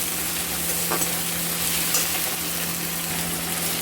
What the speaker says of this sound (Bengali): লবণ দিয়ে আমরা এটাকে নাড়াচাড়া করবো